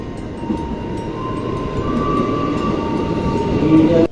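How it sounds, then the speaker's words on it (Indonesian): Steady rumble and rolling clatter inside a moving commuter train bound for Jakarta Kota, loud and continuous, with a faint high squeal rising near the end. "Sekarang kita lagi di kereta tujuan Jakarta Kota."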